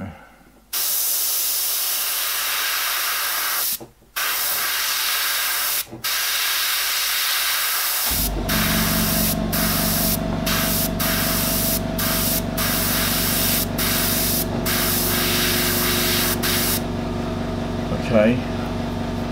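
An airbrush hisses steadily while spraying paint onto a portrait, the airflow briefly interrupted several times by short gaps and later joined by a low mechanical hum beneath it.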